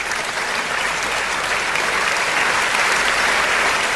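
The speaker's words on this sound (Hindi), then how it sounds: "इस बात पर भी एक बार जोरदार तालियां बजनी चाहिए" Audience at a Hindi love-poetry recital giving loud, dense applause, a steady wash of many hands clapping throughout with no speech over it.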